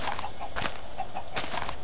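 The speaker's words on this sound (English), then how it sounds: "Oh my gosh, that's like a fuck ton of chickens." A crowd of chickens in a video game clucks continuously, many overlapping clucks and squawks in a dense, close chorus with brief louder bursts.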